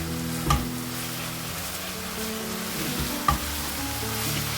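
Minced meat keema frying in masala is stirred in a pan, a steady close sizzle broken by two sharp spoon knocks against the pan.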